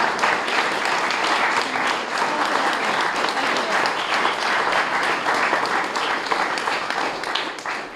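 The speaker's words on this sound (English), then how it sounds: "I want us to give a big hand of applause to Sarah and Roger" Sustained audience applause from a crowd at an outdoor talk at Stone Barn, dense steady clapping filling the whole stretch with no pauses.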